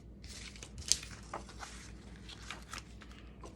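Scrap paper slid between book pages during bookbinding, just before gluing, heard as a soft close papery rustle and scrape with one sharper crinkle, quiet and alone.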